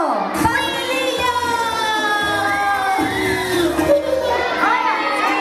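Excited children's party crowd shouting, whooping and cheering together, loud and continuous, with high voices layered over lively party background.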